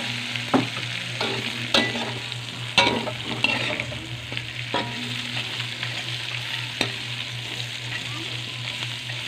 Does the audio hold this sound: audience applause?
no